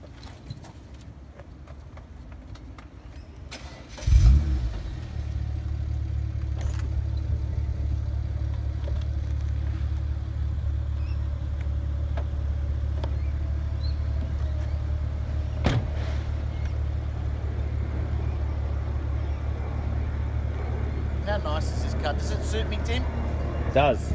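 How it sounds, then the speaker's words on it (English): The power roof of a 2010 BMW 135i convertible moves: a click, then a steady low motor hum that runs on with faint mechanical clicks in between. "We'll show you the roof operation."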